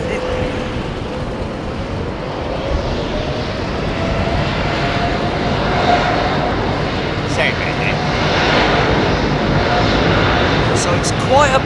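A British Airways Boeing 787-8 jet rumbles on runway 27 right on a blustery day, a broad steady roar that slowly swells in loudness, heard from a distance outdoors.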